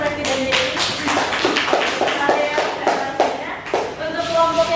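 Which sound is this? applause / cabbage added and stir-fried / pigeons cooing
applause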